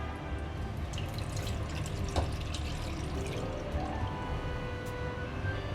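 Water pours into a glass in a home kitchen, to be stirred into plain flour while making beef nihari. It is a steady, close trickle with faint drips, low and continuous throughout with no talking.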